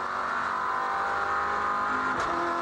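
A V8 race car in the NZV8s series at Pukekohe roars loudly on board, its engine holding a steady, dense howl before a quick gear change near the end, with no talking.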